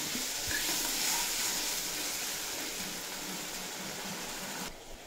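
A paste of ground onion, garlic, ginger, green chili and tomato frying in a pan, giving a steady, even sizzle that holds throughout and cuts off abruptly near the end.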